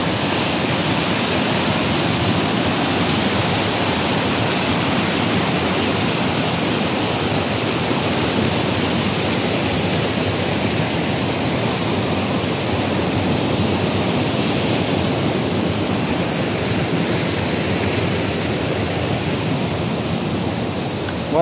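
Water rushes down a waterfall as a loud, continuous, even roar that fills the whole stretch, with no voices.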